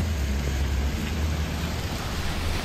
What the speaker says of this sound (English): we're downtown and it's raining